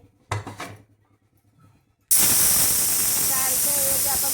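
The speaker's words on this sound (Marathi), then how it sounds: "आता आपण कुकरचं झाकण लावून 4 शिट्ट्या घेऊया." A pressure cooker holding chicken and a little water bursts into a loud, sustained steam whistle after a quiet stretch with a few faint clinks, the hissing jet starting abruptly and holding steady to the end.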